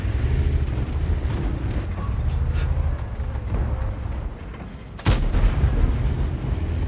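A T-32 tank gun fires in World of Tanks, a sharp boom about five seconds in that stands out over a steady low rumble of engine and wind-like noise, with no talking.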